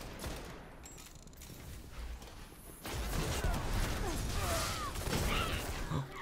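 Sniper rifle fire in a Destiny Crucible multiplayer match: scattered gunshots and bursts of game combat, fairly faint, over a busy low background with a louder stretch in the second half.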